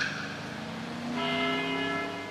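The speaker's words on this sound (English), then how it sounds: "After the 12th time, the bell did not stop ringing." A large bell tolls in the video game Deadly Premonition, one resonant strike fading and then a second loud strike ringing out with a long, humming sustain.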